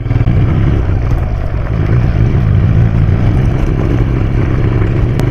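A motorcycle rides over a potholed, bumpy rural road, its engine rumbling steadily and loudly up close with rattling clatter from the rough surface throughout.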